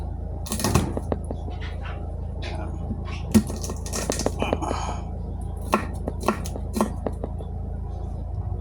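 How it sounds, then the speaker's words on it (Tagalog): Garlic is crushed by hand for a home-cooked Filipino dish, a series of sharp, irregular knocks and taps close by against a steady low hum, with a voice speaking briefly in between. "Durugin lang natin tong bawang."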